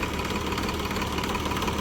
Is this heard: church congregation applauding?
no